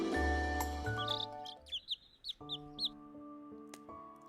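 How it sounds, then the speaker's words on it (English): Little birds chirp in Love and Deepspace, bright quick tweets layered over a sustained musical tone, several close calls bunched in the middle. "I slowly wake up to the sound of chirping."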